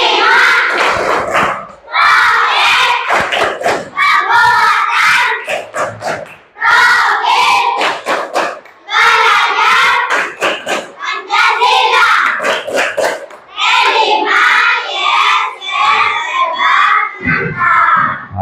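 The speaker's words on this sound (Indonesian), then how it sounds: "Lanjutkan sekarang tepuk P5." Class of schoolchildren chanting the P5 clapping routine in unison, loud rhythmic shouted phrases punctuated by sharp group claps, with brief pauses between bursts filling the room.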